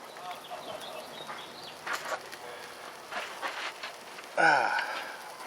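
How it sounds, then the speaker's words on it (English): Steady rain patters in the background near Sedona, Arizona, with a few louder splashes and a brief sharp chirp near the end. "you can see that rain, the clouds are kind of descending"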